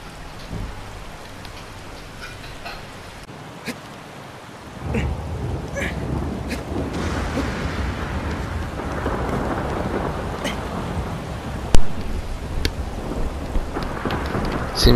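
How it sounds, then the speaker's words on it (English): Thunder and rain in the Shadow of the Colossus remake: quiet ambience gives way to steady heavy rainfall, with rumbling thunder and several sharp cracks, one especially loud near the end. "Oh, there's thunder."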